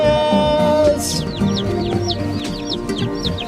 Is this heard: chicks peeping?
yes